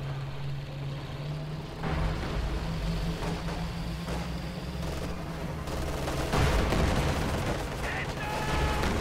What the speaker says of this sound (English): T-34s firing at these Volksgrenadiers over here on the right side